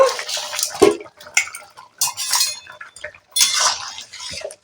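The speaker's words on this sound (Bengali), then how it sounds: "এবার ঢাকাটা খুলে দেখে নেব" Metallic clinks and clatter of a pot and lid being handled, a few sharp knocks with quiet pauses between them, close up.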